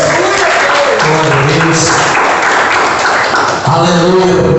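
A church congregation claps loudly and continuously for Jesus during a Portuguese-language worship service, a dense, sustained round of applause with voices mixed in.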